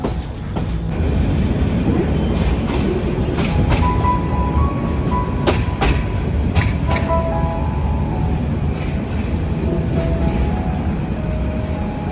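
The Agnibina Express creeps slowly into Kamalapur railway station, a loud steady rumble of wheels on track with scattered clanks, squeals and tonal screeches over twelve seconds, no speech.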